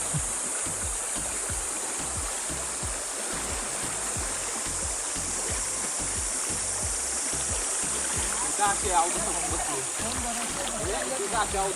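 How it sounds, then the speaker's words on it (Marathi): Water rushes and burbles steadily nearby at the Panshet Dam backwaters near Pune, with a continuous gurgling flow, and a voice speaks faintly near the end. "पाण्याचा आवाज ऐका"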